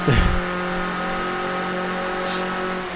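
Escort RS 1600 race cars in a racing game at Sonoma GP, with a steady droning engine note at high revs and a brief loud swell at the start, and no talking.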